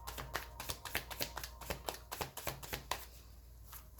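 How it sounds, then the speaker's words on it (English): Light Seer's Tarot cards being shuffled, a quiet, close series of crisp riffling taps and slaps in an irregular rhythm, heard alone without talk. "let's use the Light Seer's Tarot to quickly pull a few cards for you"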